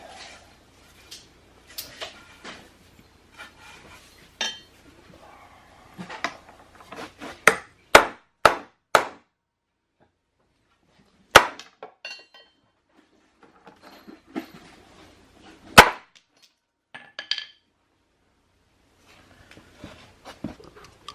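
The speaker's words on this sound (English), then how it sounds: "after I whack these with a hammer" Sharp hammer blows strike the staked-in U-joint of a Toyota RAV4 in irregular bursts, some hard and ringing, others lighter taps, separated by quiet pauses.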